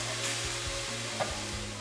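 Chicken sears in a 12-inch skillet for a weeknight stir fry, giving a close, steady hiss and sizzle with faint stirring scrapes.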